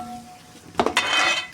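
Cooked rice being mixed in a pan for mango rice, a quiet start followed by a short burst of metal spoon clatter and scraping against the pan.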